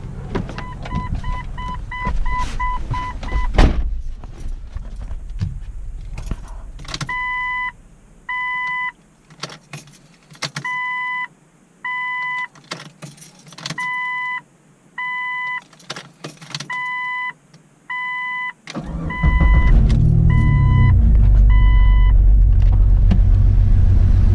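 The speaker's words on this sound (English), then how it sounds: "we're probably gonna have to crank it up a couple of more times before we actually try to start it." A Jeep Cherokee XJ fitted with new 4-hole fuel injectors cranks in repeated bursts alongside a chiming door or key warning beep, then the engine catches and settles into a loud, steady idle for the last few seconds.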